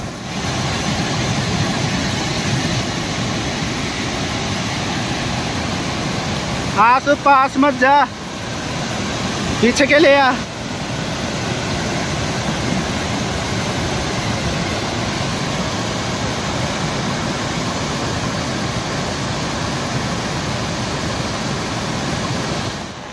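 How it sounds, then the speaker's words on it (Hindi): A rain-swollen mountain river rushes in a steady, loud roar near a waterfall after a cloudburst over a Pahadi village, with two brief bursts of a voice over the torrent. "यहाँ पर नदी तेज होती जा रही है और आप देख सकते हैं नदी का पानी बढ़ता जा रहा है अभी"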